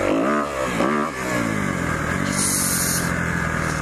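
A small motocross motorcycle revs close by while being ridden slowly, its engine note rising and falling in a couple of throttle blips before settling into a steady, loud drone.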